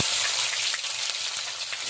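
Sliced onions crackle and sizzle loudly as they hit hot oil already tempered with cumin, whole garam masala, bay leaves and a dried chilli, a steady close fry with no talking.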